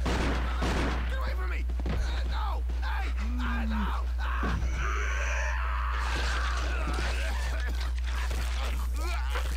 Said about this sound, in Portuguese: Ele tá na mansão dando muito tiro.